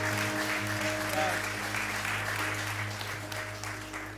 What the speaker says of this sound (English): let's give all of our first-time guests a great big round of applause this morning